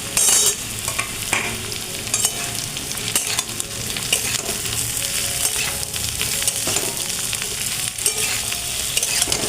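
Pointed gourd (potol) frying in oil with potato, onion and bay leaf in a pan: a dense, close, continuous sizzle with repeated stirring scrapes and clinks from a spatula, no talking.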